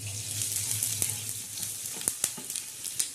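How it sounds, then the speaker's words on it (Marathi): Coriander seeds being dry roasted in a pan after onions are pushed aside, producing a steady close sizzle with a few sharp scraping ticks from stirring toward the end, no talk. "आता हे धन्याचे खुरपूस असे खरपूस भाजायचे"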